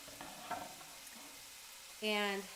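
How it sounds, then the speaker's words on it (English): Half a diced onion hits a hot frying pan during a cozy fall pumpkin and sausage pasta dinner. After quiet kitchen noise, a sudden loud, bright sizzle bursts up near the end and holds for about half a second. "So I've got half an onion that I just diced, gonna go in."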